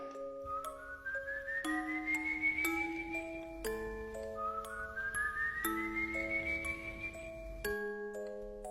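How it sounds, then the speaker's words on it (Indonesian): Eerie melodic whistling with slow rising glides and held notes, repeated twice over a faint electronic backdrop, with no talking. "Kalau lu denger siulan ini, gue saranin mending lu hati-hati."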